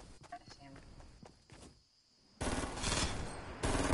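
Video game gunfire ends scattered early sounds and a short quiet gap with a dense, loud burst of rapid shots that continues to the end, while voices talk over the opening.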